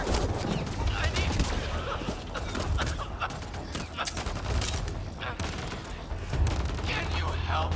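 Dense, continuous gunfire from a Mass Effect Andromeda firefight, rapid overlapping bursts and shots running throughout, loud and busy, with voices shouting over the combat.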